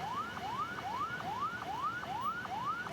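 An ambulance siren wails on a national road through Tapanuli Selatan, North Sumatra, while stuck in a traffic jam. It gives a fast, steady run of rising sweeps, about seven cycles, loud and close and alone.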